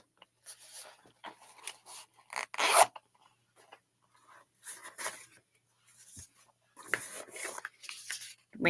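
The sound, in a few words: beaded zipper pull on a beauty bag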